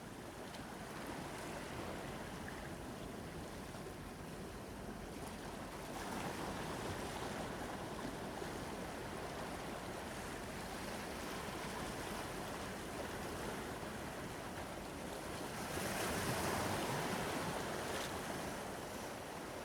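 Ocean surf in Australia rushes steadily onto the shore in a continuous soft wash with gentle swells, mixed with light wind noise.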